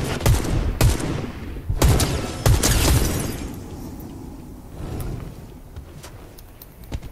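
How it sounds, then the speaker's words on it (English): Gunfire in Fortnite Chapter 5 Season 2, a few sharp shots spaced out over several seconds, some with a booming tail, then quieter ambience with faint distant cracks. "He's like shooting at us from like all the way over there."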